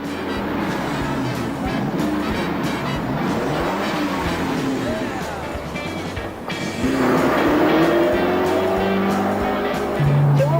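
Joe Cell water-powered car engine revving hard while driving, a continuous loud drone with rising and falling pitch sweeps, climbing sharply near the end, heard from inside the moving car.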